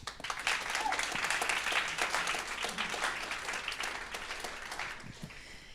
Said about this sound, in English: Give all the prize givers a thank you applause.